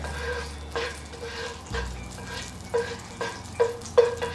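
Ghee heating in a pan over medium-low flame for frying nuts, giving a soft steady sizzle with a few brief stirring clatters toward the end.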